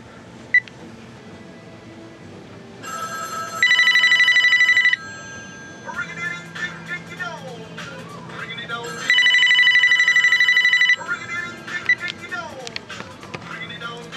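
A call is placed on a vintage Sony SPP-73 10-channel cordless telephone, and two long electronic ring bursts sound loud and close, about six seconds apart, with clicks, handling noise and a voice in between.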